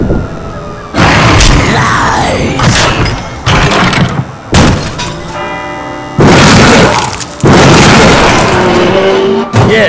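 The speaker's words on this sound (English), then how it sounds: "big explosion. They probably heard it in Kansas." A huge explosion in the shooter game The Darkness II on PC: several loud booming blasts with crashing debris and a rumbling roar that surges and cuts off repeatedly over about ten seconds.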